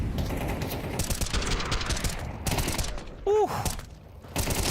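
Rifle gunfire during a Counter-Strike esports match, rapid bursts of sharp shots and clattering weapon sounds in quick succession, loud and busy, with a short exhaled voice partway through.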